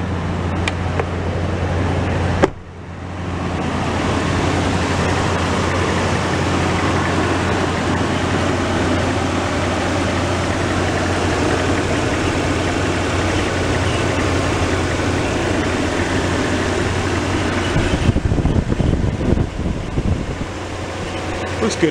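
A repaired car engine idles in a garage with a steady, even hum after a sharp start-up, running smoothly for a long stretch before a brief rise in noise near the end; people talk faintly.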